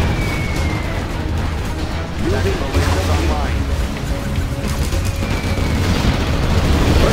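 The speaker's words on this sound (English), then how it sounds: "Our scud storm has been launched." Scud Storm missile explosions in Command & Conquer Generals Zero Hour make a dense roar of booms and rumbling blasts, with game voice announcements spoken over the top.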